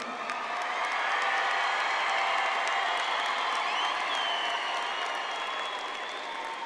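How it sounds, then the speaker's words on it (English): A graduating class at the Community College of Denver 2019 commencement applauds their families, producing a thick, continuous wash of clapping with scattered cheers and a whoop, steady and loud throughout. "give your family members a round of applause"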